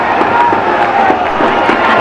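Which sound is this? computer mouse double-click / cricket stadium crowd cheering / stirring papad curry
cricket stadium crowd cheering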